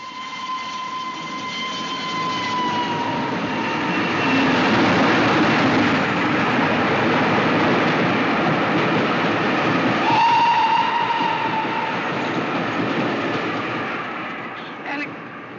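A 1940s steam train runs steadily with loud rumbling and clatter, while whistles sound near the start and again around the middle.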